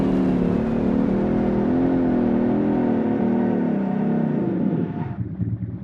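A Bentley-style car in the BeamNG driving game roars loudly under hard acceleration, its engine tone climbing steadily, then drops off sharply near the end as the brakes are slammed.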